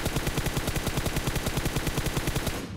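Rapid automatic gunfire in a battle royale mobile game, a loud, close, continuous burst of evenly spaced shots that stops abruptly at the end.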